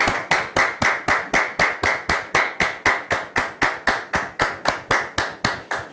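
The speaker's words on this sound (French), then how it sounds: "Alors merci de recevoir M. Djiké sous vos applaudissements, s'il vous plaît." An audience claps in steady unison rhythm, evenly spaced beats repeating over several seconds to welcome a guest onto a French talk-show set, with no voices over it.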